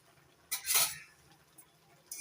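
A utensil stirs jute leaves and lentils in a cooking pot, giving a few soft scrapes and one brief clink, quiet and close with no talking.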